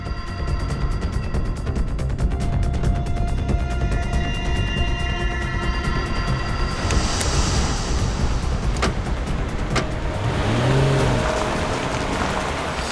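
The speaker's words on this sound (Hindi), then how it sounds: "इसने अचानक गाड़ी की स्पीड क्यों बढ़ा दी?" A car speeds up suddenly during a pursuit, its engine a loud, continuous roar that swells partway through and then settles, with no talk over it.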